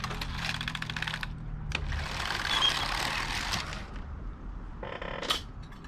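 A Passap E6000 knitting machine carriage sliding across the needle bed to knit a row, a mechanical rasping swoosh with clicks and clatter, close and with no talking.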